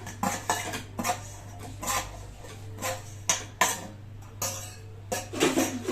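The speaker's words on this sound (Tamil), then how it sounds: "இப்போ இதுல இந்த பொரிச்சு வச்ச இறால சேர்த்துக்கிறேன்" Fried prawns are added to a biryani pot and stirred with a metal spoon, giving a run of sharp clinks and scrapes against the pot at an uneven rhythm, close and clear against a low steady hum.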